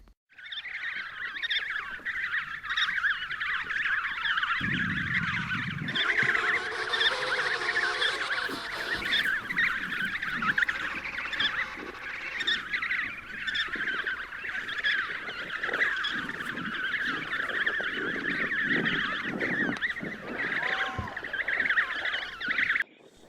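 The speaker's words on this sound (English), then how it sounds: "Penguin." Loud, continuous penguin calls come from a crowded group, a dense chorus of harsh braying and honking cries that goes on without pause, with no talking.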